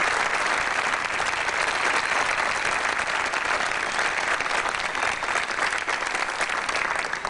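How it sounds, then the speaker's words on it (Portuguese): Sustained studio audience applause on a Brazilian television talk show welcomes a guest, steady and dense throughout, loud and full with no break. "mas vamos aplaudi-la daqui"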